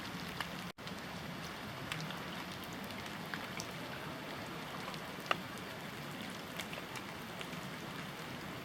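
Steady November rain falls all around at the Gorgazzo spring in Polcenigo, Italy, a soft continuous patter with occasional louder drips landing nearby.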